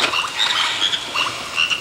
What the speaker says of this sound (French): je pense que Simon avait raison avec ses grenouilles